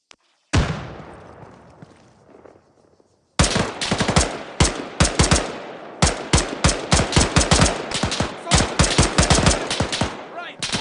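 Gunfire in the military shooter video game Arma 3, set in Western Sahara: loud, close automatic bursts and rapid single shots in dense runs, opening after a brief silence and sharp onset.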